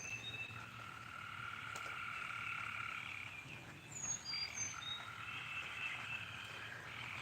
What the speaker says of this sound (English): Frogs are kicking up.